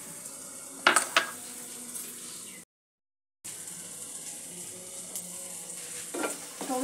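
Chopped tomato, capsicum, onion, ginger and green chilli frying in oil in a pan, a low steady sizzle with a few sharp spatula clinks against the metal, cut by a short silent gap partway through.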